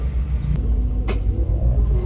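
An unmodified stock car engine rumbles steadily and loudly at the start of a race, with a brief sharp burst partway through.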